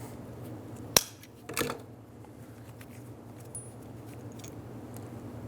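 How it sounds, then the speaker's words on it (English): Crusty, hardened rubber washer seal being cut off a valve cover bolt on a 2003-2008 Honda Pilot: two quick, crisp snips close by, the first sharper, followed by quiet handling. "So I'm going to cut mine off"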